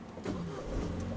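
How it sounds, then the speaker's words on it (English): A car engine cranks and catches during a driving lesson, a short rough low rumble heard from inside the car that settles into an idle. "Start the engine."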